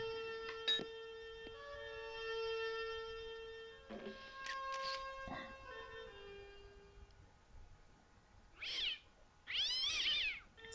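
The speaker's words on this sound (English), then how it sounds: "And the cat gets irate," Irate cat meowing from the adventure video game Broken Sword: The Shadow of the Templars, heard as two loud, wavering yowls near the end, after quieter tonal game sounds and music.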